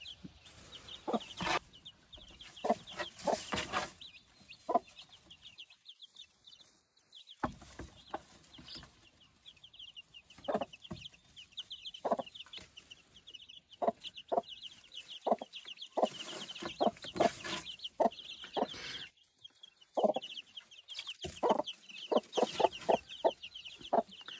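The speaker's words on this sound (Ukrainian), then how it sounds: "цю малечу висиділа і доглядає Мама курочка домінант" A Dominant breed mother hen clucks in short, soft bursts at close range, with brief pauses of near silence between the clucking and some faint chick peeps.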